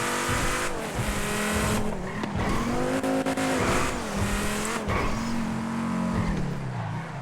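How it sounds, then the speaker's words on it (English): Engine roar in Grand Theft Auto roleplay as a car slides through a handbrake drift. The loud, continuous motor pitch rises and dips, and tire squeal runs throughout. "Little handbrake. A little bit of drifting."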